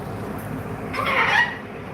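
A domestic chicken gives a brief clucking call in the middle, moderately close, over low background rumble, with no talk.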